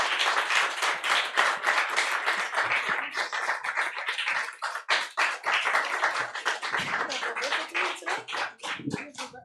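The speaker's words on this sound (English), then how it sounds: "Let's give them a round of applause" An audience at a film discussion event applauds the filmmakers: sustained, close hand clapping with crisp individual claps that thin toward the end.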